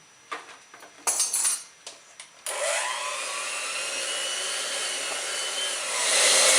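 An electric hand mixer whisks a batter for Nanaimo bars, starting with a few bursts and clinks against the bowl, then settling into a steady, close motor whir that rises slightly near the end; no talk.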